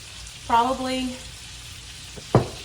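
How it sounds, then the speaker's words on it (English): Jalapeño chicken burgers sizzle quietly in a pan under a low, continuous hiss, with a brief tonal squeak early on and a sharp clatter near the end. "I got 4 more burgers cooking."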